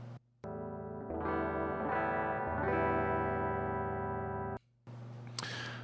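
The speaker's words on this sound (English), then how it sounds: "what you're going to hear is just plain clear guitar coming through my interface" A clean electric guitar plays straight through an audio interface with no effects, a few plucked notes ringing into sustained chords for several seconds before cutting off, followed by a short noisy burst.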